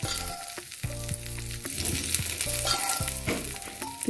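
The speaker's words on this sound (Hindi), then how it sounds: "अब हम इसमें अपना तड़का डाल रहे हैं," Garlic and spices tempering in hot oil for kadhi, a loud, steady sizzle and crackle of frying with stirring scrapes running throughout, no voices.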